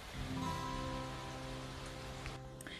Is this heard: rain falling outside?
yes